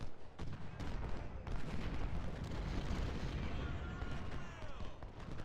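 Artillery fire in the Civil War strategy game Ultimate General, set at the Battle of Chickamauga: a dense, continuous rumble of cannon booms and volleys blending into a roaring battle din, moderately loud with no speech.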